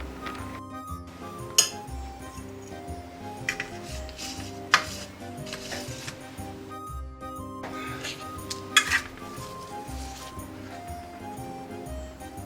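Plates, cutlery and glassware clink and clatter close by while baked zucchini with cheese is served onto a plate, several bright taps and knocks scattered over a low, steady background without speech.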